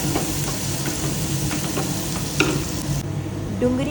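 Onions sautéing for sambhar, a dense, steady sizzle with frequent spoon scrapes and stirring knocks against the pan, close and fairly loud.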